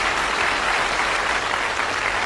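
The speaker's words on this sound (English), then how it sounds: "I think that might be worth a round of applause there" Studio audience applause on the 1981 Bullseye television game show, a loud, even burst of many hands clapping that holds steady for a couple of seconds without speech.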